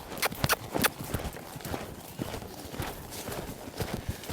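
A horse lopes along a trail, its hooves giving a close, rhythmic clip-clop of quick repeating beats, steady and moderately loud with no speech.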